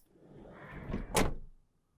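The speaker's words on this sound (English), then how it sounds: "closing the door is also just such a satisfying sound" A Japanese car door swings shut with a short rushing whoosh followed by one solid, close thump that quickly fades to silence.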